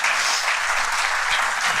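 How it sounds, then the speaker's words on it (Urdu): A crowd at a Muslim scholars' meeting in Lucknow claps in sustained, dense applause welcoming a guest, loud and even throughout with no voices standing out. "ہم آپ سے درخواست کریں گے کہ آپ زوردار تالیوں کے ساتھ استقبال کریں۔"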